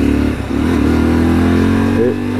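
A motorcycle engine holds a loud, steady drone close by while lane splitting in traffic, with a brief dip and a slight rise in pitch near the end.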